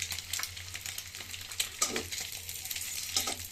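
Eggs frying in oil for a morning egg bhuna on a gas stove, with a steady soft sizzle and a few scraping stirs of a spatula against the pan, no voices.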